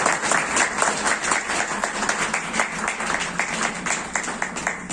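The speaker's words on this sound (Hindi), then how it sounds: "तो सबसे पहले मेरे उस शिष्य के लिए तालियां बजा दो" A crowd applauds for a disciple at a devotional gathering, dense sustained clapping from many hands that fills the whole stretch at a loud, even level with no voices over it.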